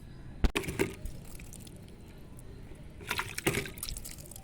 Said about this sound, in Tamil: இந்த ஐந்து குச்சிகளையும் பதியம் பண்ணி வச்சாச்சு இப்போ தண்ணி தெளிச்சிக்கலாம்